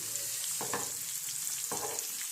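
Green chilies fry in a pan, giving a steady close sizzle with two brief stirring scrapes, without any talking.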